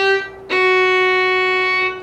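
A bowed string instrument starts a descending scale from an up bow, sounding a sustained tone that shifts to a new bowed note about halfway through. The notes are clear and close, and each one is held.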